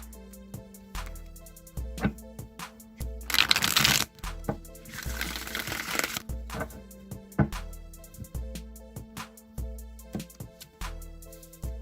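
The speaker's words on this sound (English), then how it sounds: "All right, one more shuffle." A tarot deck is shuffled in two separate bursts of rapid riffling, close and fairly loud, over soft continuous background music with no talking.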